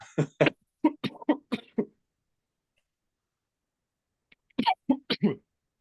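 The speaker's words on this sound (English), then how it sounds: "I'm about to cough." A run of sharp, harsh coughs close by, followed by a pause of silence and then a second short burst of coughing.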